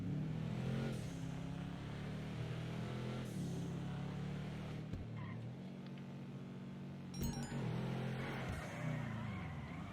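A car engine in GTA 5 drones and revs continuously, rising and falling in pitch with brief dips, loud and close throughout.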